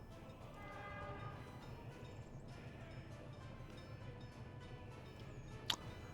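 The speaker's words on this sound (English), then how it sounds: "What is this train doing here?" A train rolls past in the Workers & Resources: Soviet Republic game with a steady mechanical rumble and clatter, and a brief sharp horn or whistle blast sounds near the end.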